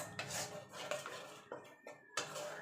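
Metal utensil scraping and clinking against a pan while cauliflower and potato curry is stirred, several close, uneven bursts of stirring with soft scraping in between.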